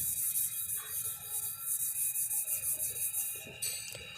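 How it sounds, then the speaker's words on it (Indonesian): Sandpaper is worked by hand over the corners of car body filler, a steady series of rhythmic scratchy rubbing strokes, close and fairly loud, with a brief change in texture near the end. "setiap sudut-sudutnya kita amplas menggunakan tangan saja"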